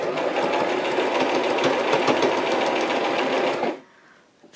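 A sewing machine stitches lace onto fabric in a loud, fast, steady mechanical whirr close by, running without pause for a few seconds before stopping abruptly into near silence.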